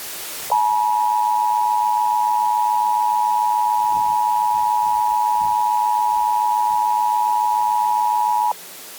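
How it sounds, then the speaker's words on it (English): Emergency Alert System attention tone during a national emergency action notification broadcast, a loud steady two-tone beep held continuously for about eight seconds before cutting off. "This station has interrupted its regular programming at the request of the White House to participate in the emergency alert system."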